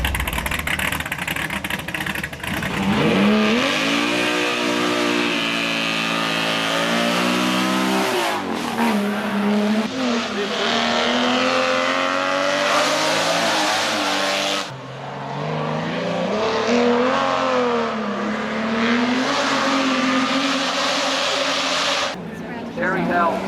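A six-cylinder 179 racing car fitted with three Weber carburettors drives steadily, its engine droning loud and close throughout with rising and falling revs, while people talk over it.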